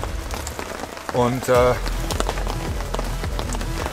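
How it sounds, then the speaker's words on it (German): Rain falls steadily on surfaces outdoors by a weedy carp-fishing lake, with a continuous patter throughout and a person speaking briefly in the middle. "Es regnet immer noch."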